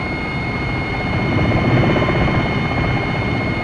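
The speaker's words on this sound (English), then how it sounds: "Enemy choppers." A video game helicopter's rotor chops steadily in a combat mission, a loud continuous thudding whir with a faint high whine, swelling slightly in the middle and carrying on alone.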